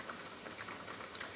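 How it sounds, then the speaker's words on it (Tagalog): Coconut milk curry sauce made with Penang Nyonya curry paste and pineapple, boiling in a pot with prawns: faint, continuous soft bubbling and popping, close by, with no voices. "Kumukulo na siya."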